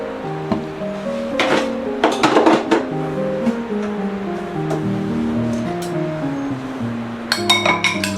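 Eggs with black pepper are whisked in a bowl, producing repeated bright metallic clinks and tapping against the bowl in quick irregular bursts, close and clear, with no talking.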